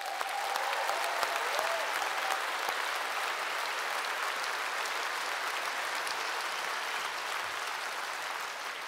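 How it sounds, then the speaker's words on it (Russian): Steady, full audience applause fills a KVN comedy contest hall as three teams return to the stage, a dense continuous roar of clapping throughout with a brief tone near the start. "Прошу, команды, под наши аплодисменты"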